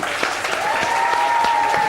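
A television morning show's studio audience breaks into brisk applause, steady and fairly loud, with a faint tone lingering behind the clapping.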